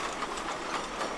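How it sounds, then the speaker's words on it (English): A train on the Gulbene–Aluksne railway rumbles as it slows approaching a level crossing, with steady rolling noise and faint rhythmic wheel clatter heard from nearby. "Approaching the level crossing, the train slows down."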